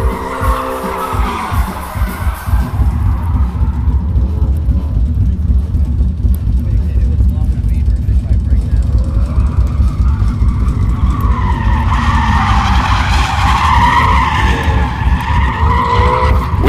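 A car accelerates hard with a loud engine roar at the SEMA 2016 show, then tires screech in a long skid, with crowd noise and voices underneath.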